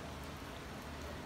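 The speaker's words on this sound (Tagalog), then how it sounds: "It's still raining." Steady rain falls on a Sunday in Iraq, a dense, even hiss of drops spread across the whole short stretch, fairly faint and continuous with no voices over it.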